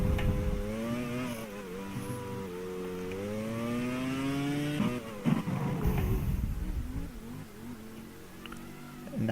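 Onboard engine of Pedro de la Rosa's Jaguar F1 car in a 2002 racing game: a loud, high-pitched engine whine rising steadily through the revs, a brief drop and shift, then settling into a rougher, lower drone.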